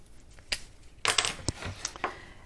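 Patterned paper being cut for a handmade box: a handful of sharp, close snips and crinkles land at irregular intervals, separated by near quiet.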